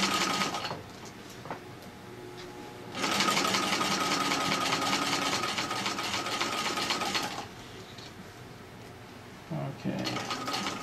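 A Singer Model 15-91 sewing machine stitches coarse fabric with a jersey needle, running in a steady whirring burst for several seconds between short starts and pauses.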